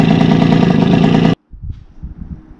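A Yamaha RD50 'Kenny Roberts' two-stroke engine with a fresh cylinder idles steadily with a loud, buzzy hum, then cuts out abruptly, leaving faint scattered knocks and handling noises.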